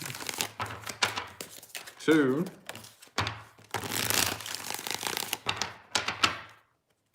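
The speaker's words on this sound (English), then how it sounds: "4 shuffle." Tarot cards shuffle in close, crisp riffling bursts that come in irregular bunches, with a few short spoken words between them and a quiet pause at the end.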